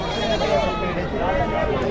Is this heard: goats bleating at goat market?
yes